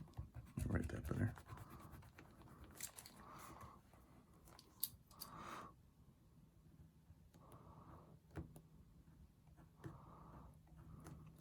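Pencil or pen writing numbers by hand while working a decimal multiplication problem, faint scratchy strokes in short bursts under quiet speech.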